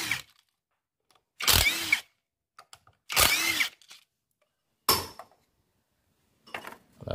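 Honda Revo Fi clutch oil cover bolts being loosened with an 8mm wrench or power driver, in short separate bursts of whirring with pauses between, close and fairly loud.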